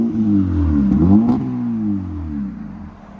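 A 2012 Honda Civic LX with a 1.8L engine, muffler delete and 5-inch tip revs up and settles back, a loud throaty drone rising and falling once before easing off.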